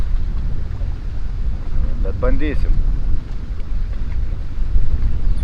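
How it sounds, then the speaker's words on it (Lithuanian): Heavy wind buffets the microphone in a constant low roar at a carp fishing pond, with someone speaking briefly partway through. "Vėjas baisulinis"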